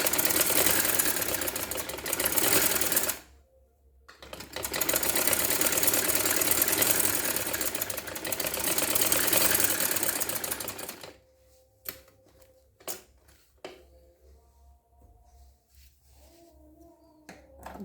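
A sewing machine stitches a girls' trouser in loud, fast bursts of close mechanical whirring with a short pause between, then stops, leaving quieter handling sounds and faint clicks.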